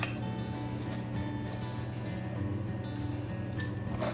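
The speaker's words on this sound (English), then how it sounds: "let's see what all we got in the box. We have a pin, a big bolt" Metal mounting hardware for a Toyota FJ40 bumper-mounted spare tire carrier, including a pin and a large bolt, clinks and jingles softly as it is unpacked from a box, with scattered light taps over steady background hum.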